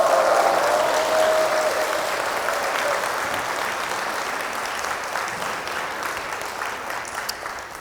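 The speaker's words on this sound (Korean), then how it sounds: "박수 한번 해주세요." Congregation at a Catholic healing retreat breaks into sustained applause, a steady dense wash of clapping across the whole stretch, with a brief tone near the start and no speech over it.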